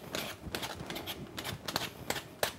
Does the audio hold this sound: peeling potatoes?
yes